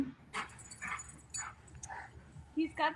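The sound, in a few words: dogs playing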